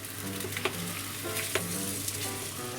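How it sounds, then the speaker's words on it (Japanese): Potato pieces fry in a pan of oil over gentle medium heat, a steady close sizzle with occasional soft stirring knocks, no voices. "油の温度はちょっと弱めの中火ぐらいでじゃがいもどんどん入れていきます"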